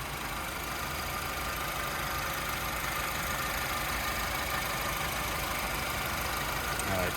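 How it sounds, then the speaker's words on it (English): A 2011 Honda Civic engine idles steadily in the open engine compartment, a constant, even broadband hum with no breaks or surges, heard up close and alone. "very nice and smooth running engine"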